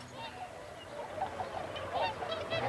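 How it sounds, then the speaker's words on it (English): Whooper and Bewick's swans wintering at Martin Mere call repeatedly in front of a bird hide, a scatter of honking calls at middle distance that builds toward the end over a low background murmur. "At the moment, there's lots of swans in front of the Hyde."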